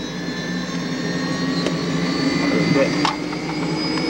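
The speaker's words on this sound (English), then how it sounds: "Chopper warming up." A helicopter engine warming up on the ground, heard as a steady loud whine with a sustained hum and high tonal lines, holding continuously with slight swells and no talk over it.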